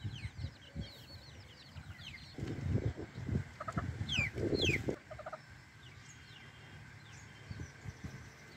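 Hens cluck and their young chicks peep in a backyard flock, with thin high chirps scattered throughout and a louder burst of low clucking and gobbling calls in the middle.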